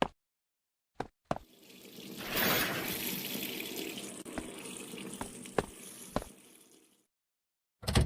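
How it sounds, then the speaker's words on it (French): A water tap in a video game hotel starts running on its own, a steady splashing stream into a sink lasting several seconds, with a few sharp clicks and knocks over it before it stops. "Le robinet, il a coulé tout seul."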